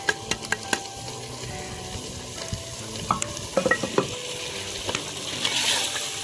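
Red chilli, salt and turmeric are stirred and fried for a village-style potato and meat curry. A spoon clicks sharply against the pan several times over a continuous close sizzle, with more clatter midway.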